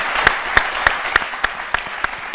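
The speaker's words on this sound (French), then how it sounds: "applaudit très fort" Audience on a TV talk show clapping together in a steady rhythmic beat, about nine sharp claps in quick succession, moderately loud.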